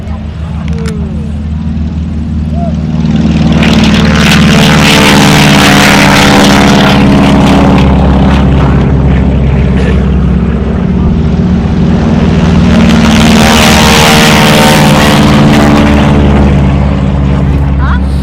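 A helicopter at an airshow display makes a loud, steady, close rotor and engine roar that holds throughout with a pulsing beat, swelling and fading slightly as it moves.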